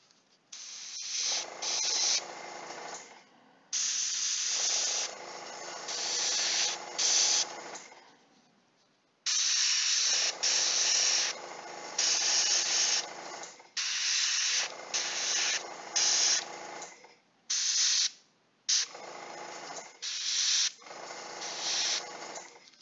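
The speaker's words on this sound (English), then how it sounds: "I don't know what's up with black gray, why it has such hard time coming through the airbrush." Airbrush spraying black-gray paint on Zombicide survivor miniatures, a steady hissing spray in repeated bursts of a few seconds separated by brief pauses, close and fairly loud, with no talking.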